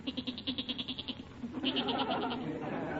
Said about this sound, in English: That's the goat. He's getting restless down in the cellar.